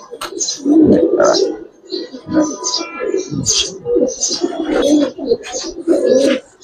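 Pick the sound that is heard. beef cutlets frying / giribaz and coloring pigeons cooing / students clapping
giribaz and coloring pigeons cooing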